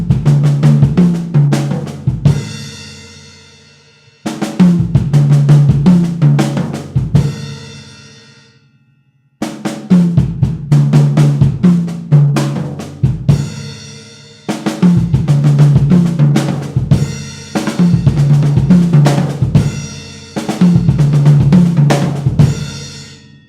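A drum kit repeats a busy 5-4-7 grouping fill in several loud bursts, with dense kick, snare and tom hits and cymbal wash between short pauses, no voices.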